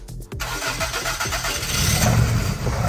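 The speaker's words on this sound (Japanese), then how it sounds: "エンジンかけてみてください" A Toyota AE86 engine cranks briefly, catches, and settles into a loud, close rumbling idle that builds slightly.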